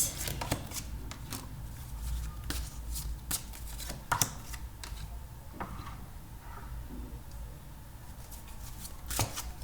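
Tarot cards shuffled in repeated soft riffling bursts and flicks, intermittent across the stretch, close by and fairly quiet with no talking.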